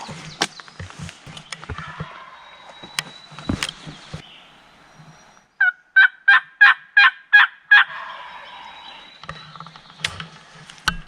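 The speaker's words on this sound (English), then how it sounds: "He eventually started gobbling at me too." A wild turkey gobbles on a Kentucky hardwood ridge in spring, a clear, loud burst of rapid gobbling pulses near the middle, with rustling and a few soft knocks before and after it and no talk.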